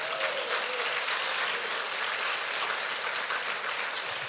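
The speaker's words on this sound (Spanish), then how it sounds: "dele un fuerte aplauso a Cristo Jesús" A church congregation applauds steadily and loudly, a dense, sustained wash of clapping with no break.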